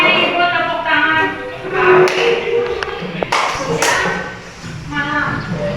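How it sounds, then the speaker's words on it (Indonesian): Classroom group clapping hands in a rhythmic pattern, sharp claps in short bursts at close range, with a teacher's voice and children's chatter between them. "kalau yang ikut tepuk tangan"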